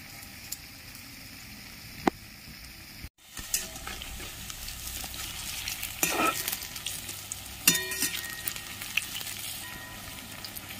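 Malabar spinach fritters fry in oil with a soft sizzle, then a brief cut gives way to a louder, busier crackle with occasional sharp clinks, close up and with no voices.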